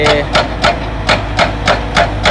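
A Hyundai excavator and a Kobelco SK200 Super X drill into hardpan rock for an underground water bank project in Nong Om, producing steady, evenly spaced rhythmic impacts, about eight loud hammering blows over a constant low engine rumble.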